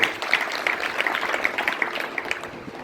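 A crowd at a satsang gathering breaks into steady, dense clapping that fills the whole stretch evenly, close and fairly loud, with no voice over it.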